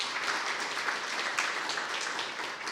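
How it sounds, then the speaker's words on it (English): An audience at an evening member event in a museum applauds volunteers, a dense, even patter of clapping at a moderate distance, heard alone and steady throughout. "Can I get one more round of applause?"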